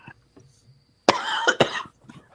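A couple of sharp, nearby coughs follow a quiet stretch with faint background noise, then trail off.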